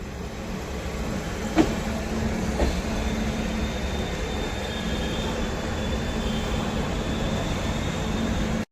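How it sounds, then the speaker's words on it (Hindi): A Delhi–Tanakpur Purnagiri Janshatabdi Express hauled by a WAP-7 electric locomotive departs Ghaziabad station, a continuous loud rumble of rolling wheels and carriages with a couple of brief clanks near the start, steady from close by. "सामने जनशताब्दी का डिपार्चर हो गया गाज़ियाबाद से"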